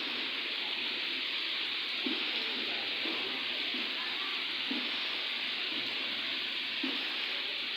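Heavy rain pours onto a flooded, waterlogged street in Allahabad, Kasur, making a dense, steady hiss with faint patters close by and no voices.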